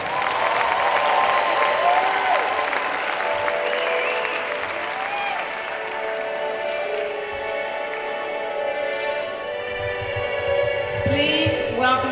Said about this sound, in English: Drumline, give him a round of applause.